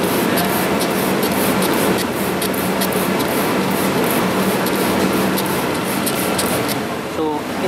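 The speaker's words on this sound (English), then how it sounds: "How to use it is basically just spray it onto your air filter." A steady hissing spray of air filter cleaner onto a motorcycle air filter runs almost unbroken for several seconds, close and fairly loud, with faint rhythmic pulses and no talking.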